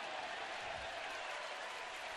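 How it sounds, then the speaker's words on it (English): A baseball stadium crowd applauds a fan's catch in the stands, a steady, distant wash of clapping and crowd noise that holds evenly throughout. "Got a round of applause."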